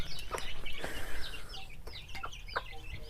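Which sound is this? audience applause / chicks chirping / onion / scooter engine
chicks chirping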